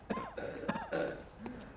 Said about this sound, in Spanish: Tose con ritmo y todo el caballero